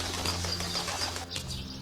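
A bird flaps its wings in a busy, continuous flurry of fluttering beats, close and fairly loud, with soft chirping mixed in and a brief lull before the wingbeats resume.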